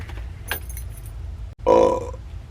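A small bunch of keys jangles up close in two quick shakes, a brief faint rattle followed by a louder, brighter metallic jingle lasting about half a second.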